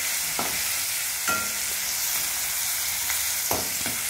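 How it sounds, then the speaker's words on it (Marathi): Garlic frying in hot oil for paneer bhurji gives a continuous loud sizzle, broken by a few sharp scrapes of a spoon stirring in the pan, with no voices. "तर लसूण टाकूया आपण."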